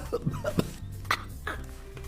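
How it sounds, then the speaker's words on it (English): A few short, sharp coughs from a Welsh corgi mix dog come in uneven bursts, close by, with quiet gaps between them. "She's a corgi, a kind of a Welsh corgi mix, and she has a cough"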